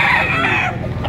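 A bullstag rooster crows at a chicken market in Padre Garcia, Batangas: one loud, close, drawn-out call over a busy background that fades near the end.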